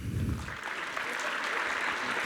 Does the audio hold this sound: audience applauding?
yes